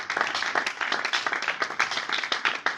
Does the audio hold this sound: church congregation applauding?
yes